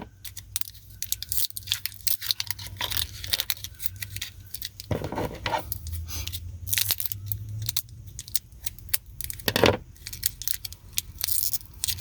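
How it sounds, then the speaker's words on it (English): Scissors cutting open several small packets, a scattered series of sharp snips, crinkles and rustles close by, with plastic tearing bursts around the middle and near the end, no voices. "I open them up, and I do it with scissors because it's just easier for me."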